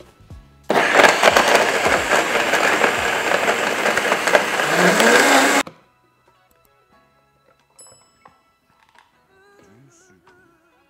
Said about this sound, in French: Une fois que tout est dans notre mélangeur, on va tout simplement venir mélanger jusqu'à temps qu'on obtienne une texture homogène et que la lime soit vraiment broyée